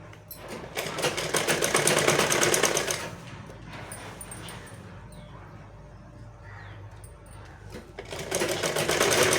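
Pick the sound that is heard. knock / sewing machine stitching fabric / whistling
sewing machine stitching fabric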